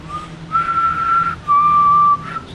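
Eerie phantom whistling said to haunt a lighthouse: two clear, sustained high whistled notes, the first wavering slightly and the second louder and steady, heard alone without talk.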